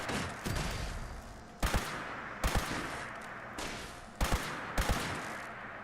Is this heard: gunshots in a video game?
yes